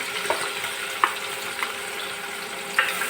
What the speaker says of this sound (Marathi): बटर नाही झाले तर त्यामध्ये कांदा कांदा टाकायचं